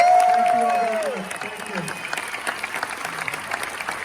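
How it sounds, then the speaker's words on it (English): Cruise ship audience on the Royal Caribbean Symphony of the Seas applauding the crew, clapping building after a voice fades out, then continuing as a moderate, even patter. "Give them another round of applause."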